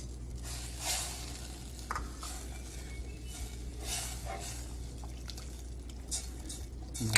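Butter, sugar and water heating together in a pan on the stove, giving a steady low bubbling sizzle with occasional soft stirring clicks and drips, close and continuous with no talking.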